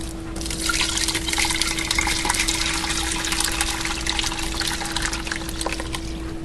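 Cheese curds and whey pour steadily from a vessel into a draining setup, a continuous splashing, trickling stream that stays close and fairly loud for several seconds with no talking over it.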